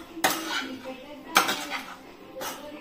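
Three sharp metallic clanks of a utensil against a pan as rice is mixed with crispy fried chicken, spaced about a second apart, with softer scraping between them.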